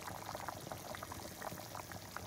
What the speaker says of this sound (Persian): آب کوفته هامون در حال جوشه